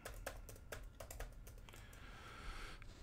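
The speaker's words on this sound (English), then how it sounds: "Let me type in LinkedIn." Fingers tap on a computer keyboard, close and quiet, with a quick irregular run of distinct key clicks over a few seconds and no talk.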